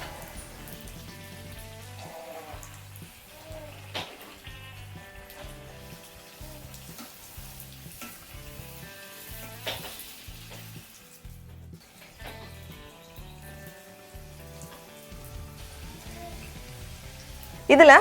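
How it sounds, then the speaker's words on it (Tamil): Puris for pani puri fry in hot oil, a soft steady sizzle and bubbling with faint scattered crackles, heard quietly beneath background music throughout. "இது மாதிரி ஒன்று ஒன்றா போட்டு நம்ம பொரிச்சிடலாம்."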